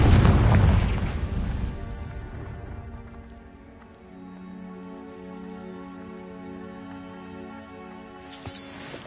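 In the video game Hogwarts Legacy, the Confringo explosion spell lands as a loud, deep boom at the start. The blast rumbles and fades into a low, droning tail, and a faint burst follows near the end.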